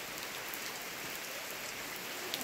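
Rain falls steadily in an even, hissing wash at low volume, with no voices and no break in the sound.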